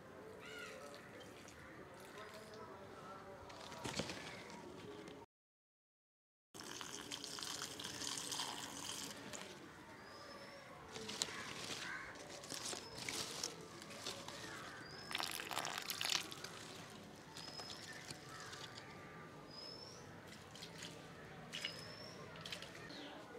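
Water is poured from a container onto a potted money plant (pothos), a gushing, splashing flow that runs for most of the stretch, with birds chirping in the background outdoors.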